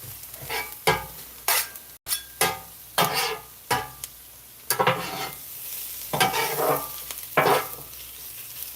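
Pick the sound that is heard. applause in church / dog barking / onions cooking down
onions cooking down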